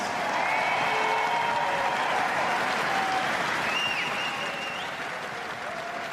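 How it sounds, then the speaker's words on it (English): A large crowd at a velodrome breaks into sustained, loud applause and cheering for a new cycling hour record, with clapping filling the space and a faint voice drifting over it. "as you can see, by the reaction of the crowd here."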